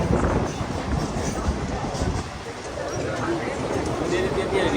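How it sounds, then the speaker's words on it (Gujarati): Riding a crowded local train in Mumbai near Andheri: a continuous loud rumble of the moving carriage fills the cabin, with wind buffeting and a murmur of voices mixed throughout. "ટ્રેનમાં આપણે બેસી ગયા છે. જો લોકલ બસ ટ્રેન કેવી છે"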